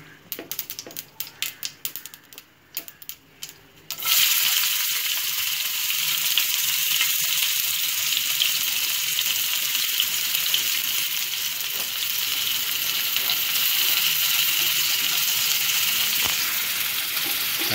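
Scattered crackling pops of mustard seeds in hot oil, then a sudden loud, steady sizzle as chopped medium onion hits the pan for rava kichadi, holding a continuous hiss throughout.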